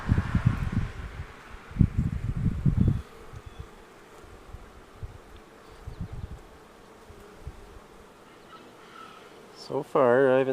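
Honeybees drone and buzz on hive frames, a dense close hum with louder bursts early on that settles into a steadier, softer buzz, and a brief sharper sound near the end.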